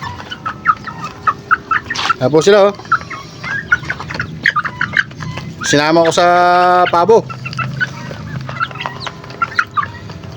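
Chickens bred from a giant Rhode Island Red rooster, kept in a backyard alongside young turkey chicks, cluck and squawk in short bursts up close, with one long loud call midway, while someone talks over them.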